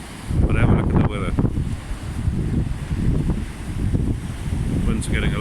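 Strong wind at Isipingo Beach buffets the microphone in heavy, rumbling gusts over the low wash of surf, loud and continuous throughout.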